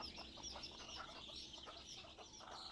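A desi hen clucks in a soft, steady run of short, rhythmic calls, heard faint and close amid light background noise in a rural yard.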